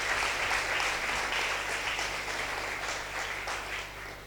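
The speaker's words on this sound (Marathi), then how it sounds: "टाळ्या वाजवा, जोरदार टाळ्या त्यांच्यासाठी." Audience clapping loudly in a hall as people are asked to stand and applaud trainers who have served, a dense steady ovation that fades slightly toward the end.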